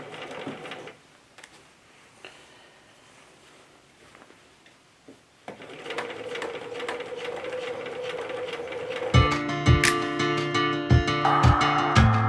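A sewing machine starts up partway through and stitches steadily, a rhythmic mechanical whir with clicking, growing louder toward the end after quieter handling sounds.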